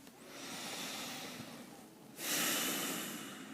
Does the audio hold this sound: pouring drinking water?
no